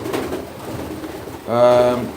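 Pigeons coo in a breeding loft, a soft murmuring background giving way to a louder, close, resonant coo near the end.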